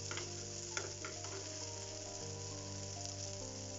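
Spice masala frying in oil for a mixed vegetable curry, a continuous soft sizzle and crackle with light stirring taps, steady and close over a faint background hum.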